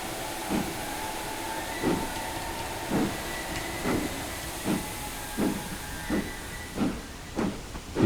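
A Castle Class steam locomotive in Train Simulator 2016 chuffs along the Riviera line, rhythmic exhaust beats about once a second over a steady hiss and rolling rail noise, a sharper burst at the end.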